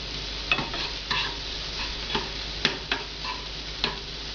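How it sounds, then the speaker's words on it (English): Mushrooms sautéing quickly in a pan, a soft continuous sizzle broken by several light clicks and scrapes of stirring at irregular intervals, close and steady with no speech. "we just want to cook them up really quickly"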